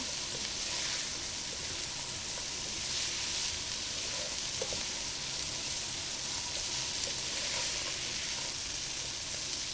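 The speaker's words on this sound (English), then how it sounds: "Fry them with the potatoes and the spices for a minute or two." Prawns fry with potatoes and spices in a pan, giving a steady close sizzle with faint stirring scrapes and no voices.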